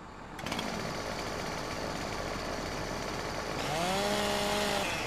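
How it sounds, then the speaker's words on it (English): A chainsaw in the Farming Simulator 2017 video game, used for cutting trees, starts and runs with a steady buzzing drone, then rises into a higher-pitched revving whine near the end. "See if we can get our chainsaw out and cut them down."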